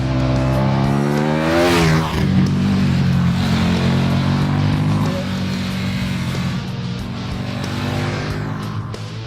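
A KTM Super Duke 1290 R V-twin engine roars continuously at close range, its pitch rising sharply in a hard rev before settling into a loud, steady drone.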